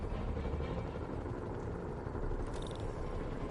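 A helicopter in the Spider-Man video game gives off a steady, continuous rotor drone with broadband whir, moderately loud and alone with no voices.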